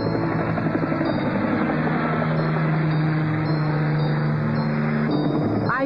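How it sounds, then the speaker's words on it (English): A helicopter drones steadily and loudly overhead, its rotor thrumming in a constant low hum with a whining engine tone, no voices. "I think the helicopter has found the balloons."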